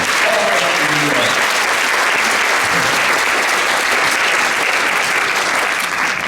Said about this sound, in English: Let's give a big round of applause for Rob Capello.